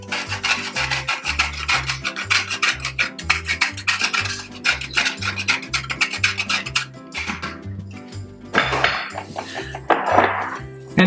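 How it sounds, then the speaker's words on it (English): Parmesan cheese being finely shredded over a gluten-free montanara fried pizza, a rhythmic rasping grate with regular back-and-forth strokes, close and clear, then a few light clinks and scrapes toward the end. "We will finely shred some Parmesan cheese over the top."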